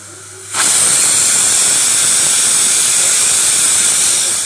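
A pressure cooker of beet, carrot and potato curry lets off its whistle, a loud, steady rush of hissing steam that bursts in after half a second and holds strongly to the end, with no voices.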